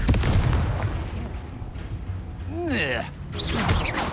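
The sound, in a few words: Confringo spell blast in the video game Hogwarts Legacy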